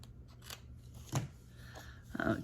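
Scissors trim the bottom of a paper card made from light cardstock, with a few sharp snipping cuts at irregular intervals and soft rustling of paper in a quiet room.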